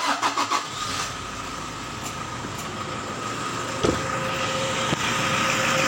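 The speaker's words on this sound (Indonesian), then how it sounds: "Saya coba nyalakan, hidupkan dulu mesinnya." A hot diesel car engine is cranked and started, a short burst of starter noise giving way to a steady, moderately loud idle with no talking.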